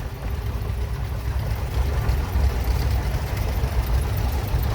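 A 1947 John Deere Model B tractor engine runs at a steady low idle during an antique tractor parade in Georgetown. The deep, even rumble is loud and close, with no pauses, and stays on its own throughout.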